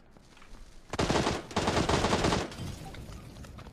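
Rapid automatic gunfire in PUBG, two loud sustained bursts of close shots with a brief gap between them, followed by quieter fading fire and no talk.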